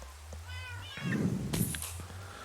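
A couple of short meows from Minecraft cats, fairly close, with a steady low hum and a soft rushing rain patter in the background.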